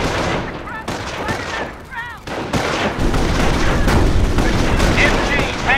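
Sustained machine gun fire and battle noise in the World War II strategy game Company of Heroes, Normandy campaign, dense rattling bursts with booms running throughout, under shouted unit voice lines.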